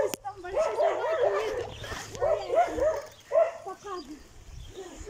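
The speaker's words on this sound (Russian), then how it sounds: "там большая собака" Large dog barking and yipping at an abandoned warehouse, several close, uneven barks and whimpery yelps running throughout, with people talking over them.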